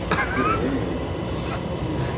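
Interior of a subway train running on the newly opened Yeoncheon line, a loud steady rumble of wheels and car body with a brief high squeal near the start.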